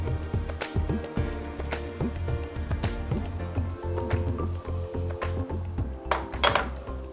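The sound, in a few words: ragi flour being stirred into hot ghee in a pan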